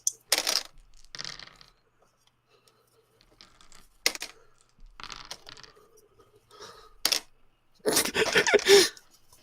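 Dice rattle and clatter across a table during a tabletop roleplaying game, in several short, separate bursts of clicking with quiet gaps between them and a longer, louder roll at the end.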